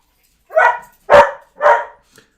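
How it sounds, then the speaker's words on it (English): A foster dog barks three times in quick succession, loud and close, each bark sharp and separated by short pauses, then a faint yip trails off. "if you guys can hear that, that's our foster dog"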